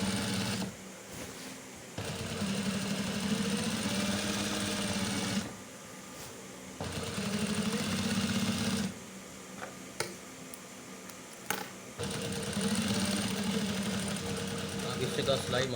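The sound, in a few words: sewing machine stitching a kameez collar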